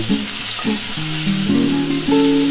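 A coconut and hog plum chutney mixture with salt and turmeric sizzles loudly in a pan, a constant bright hiss under steady background music.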